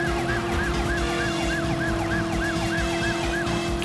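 A police siren in the video game Driver wails in rapid, evenly repeating whoops over a steady engine drone, loud and close, with no talking.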